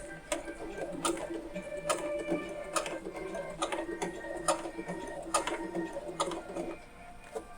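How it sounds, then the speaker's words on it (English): A sewing machine stitching a small fabric pouchlet forward and then back, making a steady rapid ticking hum with rhythmic needle clicks, close and continuous and with no talking. "okay, one more stitch forward and then we're going to go a stitch back, like so"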